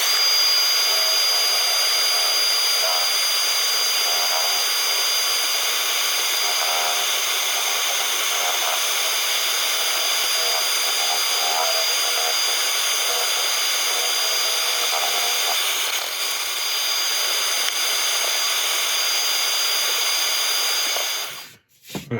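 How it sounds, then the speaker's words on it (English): Sandpaper rubs against a spinning birch end grain vase on a lathe, a steady loud whirring hiss that runs without a break and stops abruptly at the end. "Next step is some serious sanding."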